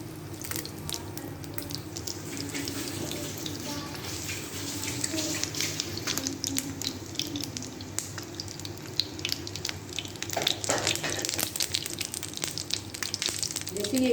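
Potato chicken kebabs fry in a shallow layer of oil, giving a steady close sizzle with crackling pops throughout, under occasional faint background voices.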